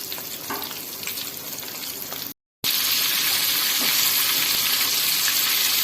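Raw chicken wings frying in oil over a medium flame, a dense, loud, even sizzle that cuts out briefly and then returns slightly stronger and steady, with no talking.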